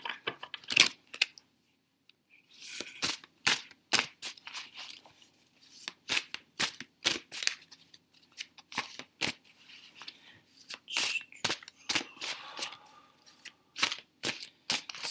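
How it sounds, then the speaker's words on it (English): Tarot cards are shuffled in quick, crisp bursts of riffling and snapping, close and fairly quiet, with brief pauses between handfuls and no talk. "I'm just shuffling."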